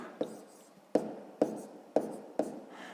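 Numbers written by hand during a sixth-grade maths exercise, five distinct sharp pen or chalk taps spaced about half a second apart, close and clear against a quiet background with no talk.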